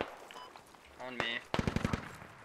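A short burst of machine gun fire in the tactical shooter Squad, five or six sharp rapid rounds close by, following a moment of talk.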